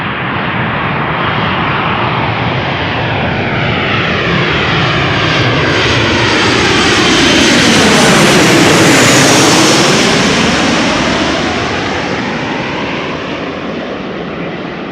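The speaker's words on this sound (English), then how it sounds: "Tarom flight 361, 737-800, arriving from Bucharest" A Tarom Boeing 737-800 arrives at Amsterdam Schiphol Airport, its engines roaring loud and close as it passes overhead, swelling to a peak mid-pass and then easing off.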